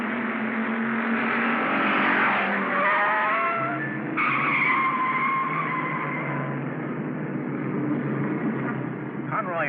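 Race cars skidding with tire squeal during a crash at an auto race, loud and sustained engine roar with screeching skids, a commentator talking over the din.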